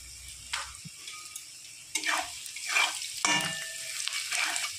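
Onions soften in a pan with a little salt, sizzling quietly while a utensil stirs them in several sweeping, scraping strokes close by.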